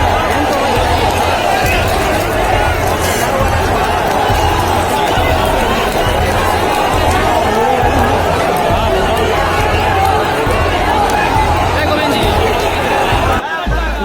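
An unruly crowd clashing with police at a protest in Patna, a dense, loud roar of shouting and babble that continues throughout, with a brief thud near the end.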